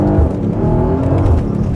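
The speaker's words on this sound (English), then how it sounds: "So if I flick down to sport, exhaust button on" A Mercedes-AMG GLC 63 in sport mode with the exhaust button on gives a loud, steady, deep engine and exhaust burble, a rich harmonic drone held close and without talk for under two seconds.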